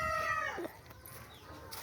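A hen gives a brief drawn-out call outdoors near water, faint and distant, fading after about half a second into quiet ambient noise.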